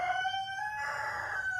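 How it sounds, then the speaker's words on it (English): Rooster crowing with hens nearby, one short, loud, clear crow rising and holding before it fades. "Update on the chickens and the rooster."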